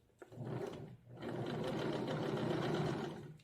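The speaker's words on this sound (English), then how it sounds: "As I sew, I'm pulling a tiny bit on the fabric" A sewing machine stitches a stretch-fabric seam with a 0.6 cm allowance for a sports bra, a close, steady motor whir in two runs separated by a brief pause.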